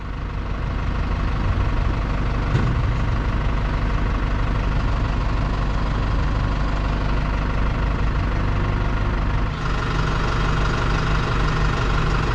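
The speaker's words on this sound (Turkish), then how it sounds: "Yani tek şişirirken kompresör çalışabilmesi için traktörün çalışması lazım." A tractor engine idles steadily and loudly throughout, powering a compressor that inflates a tyre, with a continuous low rumble and slight knocking texture and a brief dip near the end, with no talking.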